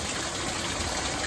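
Rain runoff water pours into a street drain, a steady broadband rushing and gushing wash with no breaks, close and moderately loud, with no talking.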